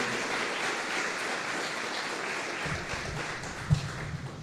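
Steady audience applause at a book fair event in Venezuela, a dense wash of clapping that holds evenly for several seconds at a moderate distance.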